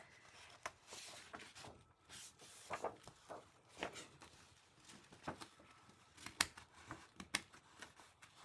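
Scissors snip through the glued binding of a vintage children's book, faint irregular crisp cuts and rustles spread through a quiet room, with no voices.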